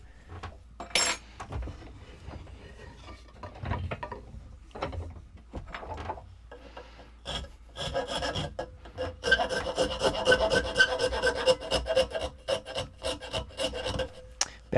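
A hand rasp files and chamfers a wooden boat fitting, giving scattered rasping strokes at first, then a dense run of quick, rhythmic scraping passes close by, with no talking.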